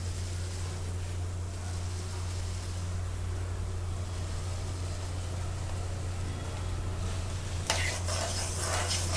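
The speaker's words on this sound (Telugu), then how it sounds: "సిమ్లో పెట్టి కొంచెం ఆయిల్ వేసి ఈ విధంగా చక్కగా వేయించుకోండి" Chana dal, urad dal, fenugreek, coriander seeds and cumin seeds dry-roasting with a little oil in a pan over low heat, a faint constant crackle over a steady low hum, with a brief louder scrape near the end.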